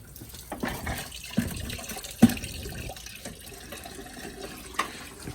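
Engine coolant draining from a 2012 Dodge Charger during motor removal, a close trickle and splash of liquid with a few sharp knocks and clatters.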